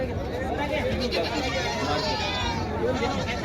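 Goats call repeatedly amid crowd chatter at a Parbhani goat market, wavering bleats layered over a continuous hubbub of voices and nearby talk.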